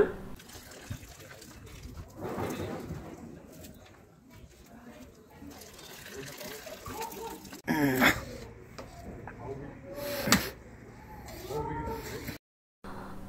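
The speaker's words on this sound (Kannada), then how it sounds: "ಈ ರೀತಿ ನೀರನ್ನ ಸೋಸ್ಬಿಟ್ಟು ಬರೀ ರೈಸ್ ಮಾತ್ರ ಹಾಕ್ಕೊಳ್ಳೋಣ" Water from cooked biryani rice is strained through a cake sieve, with brief splashing and trickling bursts that rise above an ongoing backdrop of people chatting nearby.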